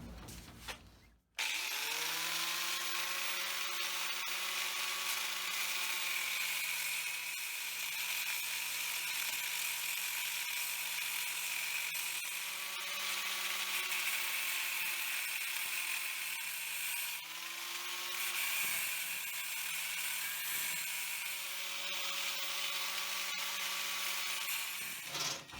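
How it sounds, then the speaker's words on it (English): A power tool cuts into an old steel drive shaft tube for a 1936 Chevy coupe, a steady high whine with shifting tones running continuously for about 25 seconds, close and alone apart from a brief pause. "So I'm not going to cut all the way through."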